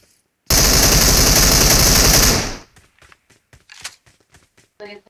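A dense, loud burst of automatic gunfire in PUBG Mobile lasting about two seconds, followed by light scattered clicks and footstep-like taps.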